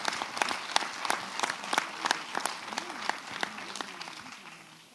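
Modest applause breaks out at a French intercommunal council installation meeting after a vote, distinct sharp claps from a small group, fading out over a few seconds with faint voices underneath.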